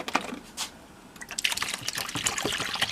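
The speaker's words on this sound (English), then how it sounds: "Maybe a little bit more water, just to cover up." Water trickling and pouring into a container to cover doll parts set to soak, a close splashy flow that rises and continues steadily, with no voices.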